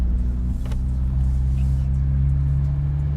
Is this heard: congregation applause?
no